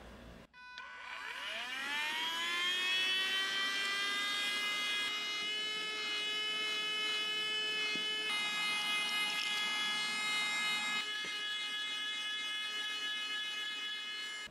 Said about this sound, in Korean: 청소기 힘을 발휘할 때가 됐다.